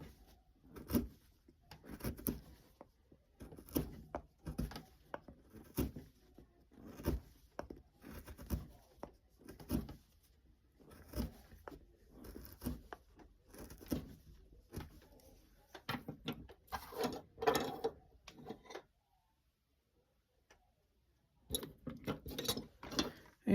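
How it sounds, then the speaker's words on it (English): A number 12 V gouge cuts into a basswood pumpkin carving with quiet, close scraping strokes in short irregular bursts, one longer pause, then more cuts. "you just want to take your V gouge, doesn't have to be this exact size"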